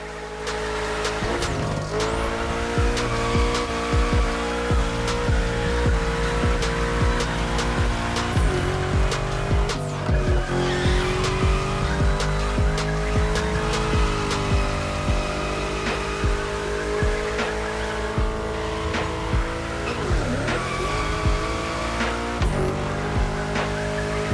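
Engine revving with tire squeal from a car cornering in the racing game The Crew Motorfest, a steady loud drone with changing pitch as the throttle is released and pressed again throughout.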